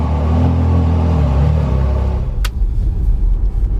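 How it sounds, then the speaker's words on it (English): A naturally aspirated Ferrari V8 rumbles loudly nearby with a deep, steady engine drone. A sharp click cuts through midway, and then the tone turns rougher and more uneven. "It is the best sounding naturally aspirated Ferrari V8 ever made, Dean."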